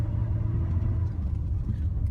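A 1985 Chevy C10 pickup rolls along with a steady, loud low engine rumble as its transmission downshifts, the drone holding even and close with no clear break.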